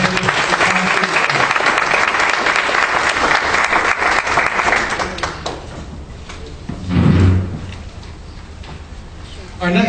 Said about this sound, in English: And we have a round of applause for both our candidates for council.